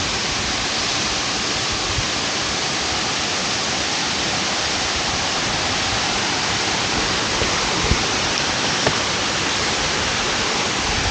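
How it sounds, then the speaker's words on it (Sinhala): Nalagana Ella waterfall in Sri Lanka, a hair-like cascade, roars in a steady, dense broadband rush heard up close, continuous and unbroken with no voices over it. "මේක නලගෙන ඇල්ල කියලා කියන්නේ ගෑනු කෙනෙකුගේ කොණ්ඩේ වගේ වැටේ"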